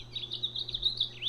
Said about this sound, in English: So this one is called a house finch.